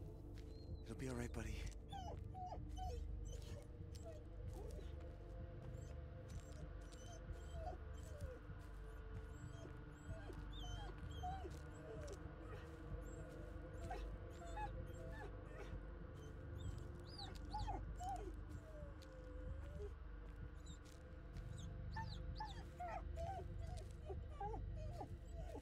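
In the video game Blair Witch, a dog whimpers in high, wavering whines over a constant low droning hum, while a person talks throughout.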